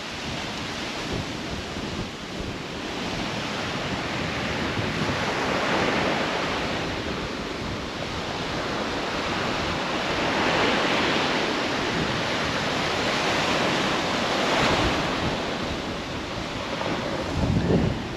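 Strong wind roars steadily by the sea in Far North Queensland, with broadband gusts and surf rushing underneath, loud and continuous throughout with no voices.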